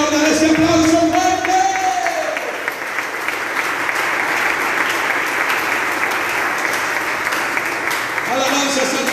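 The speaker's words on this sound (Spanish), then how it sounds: "Dale ese aplauso fuerte." Loud, dense applause from a church congregation during a service, with a voice over the opening seconds and again near the end, clapping filling the middle steadily.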